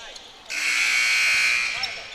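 Buzzer sounding in a basketball gym during a West Point vs Good Hope JV boys county tournament game, a loud sustained electronic drone starting half a second in and lasting over a second, with faint gym noise before and after.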